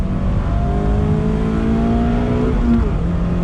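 A 2020 Mazda MX-5 Miata Club's engine drones loud and steady from the cabin, the pitch climbing gradually under load, then a short blip of revs on a heel-toe downshift.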